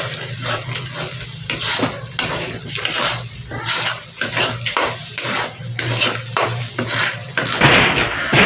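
A metal spoon scrapes and clatters steadily against a pot as masala is stirred and fried in a home kitchen, with a soft sizzle running underneath the close, rhythmic knocking.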